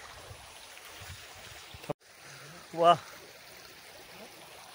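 A clear stream runs near a waterfall by Vaitarna, giving a faint, steady outdoor rush of flowing water with a brief voice breaking in partway through.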